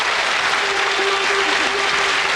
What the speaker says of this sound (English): Give them a clap, folks.